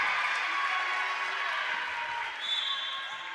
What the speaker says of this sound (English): Get a cheer from their fans.